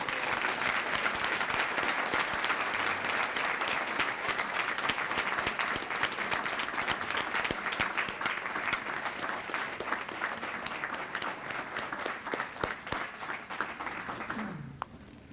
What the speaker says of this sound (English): Please join me in giving another round of applause to the fine music we've heard on behalf of Roosevelt High School